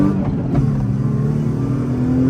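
A car engine, a drift car, revs hard and accelerates, a loud close-up growl with rising, steady pitch that holds for a couple of seconds.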